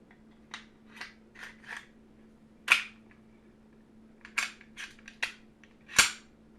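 Metal clicks and snaps of a handgun being reassembled after a field strip, fitting the guide rod, recoil spring and slide, a series of sharp close clicks spaced irregularly with a few louder snaps, no talk.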